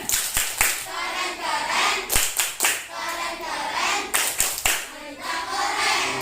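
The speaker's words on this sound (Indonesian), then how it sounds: "Tepuk keren." Pupils in a primary classroom perform a patterned rhythmic clap, sharp grouped hand claps in repeating bursts with chanting children's voices between them.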